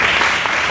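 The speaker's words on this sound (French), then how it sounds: "Applaudissons" Brief burst of applause from a congregation at a chapel gathering in Congo, a dense, loud wash of clapping filling the short moment without pause.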